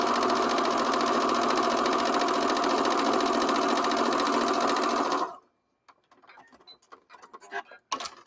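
A sewing machine stitches a tote bag in a loud, steady, fast mechanical whir lasting several seconds, then stops abruptly, leaving faint clicks and handling noises.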